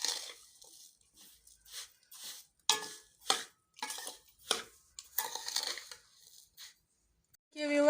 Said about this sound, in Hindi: अब हम ये अच्छे से मिक्स करेंगे।